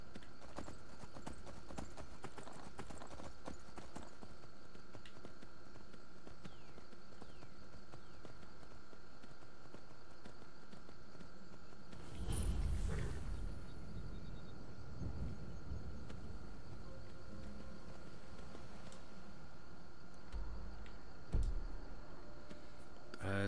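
Steady clip-clop of horse hooves at a walking pace in a video game, fairly faint, with a brief louder rustle partway through and no talking.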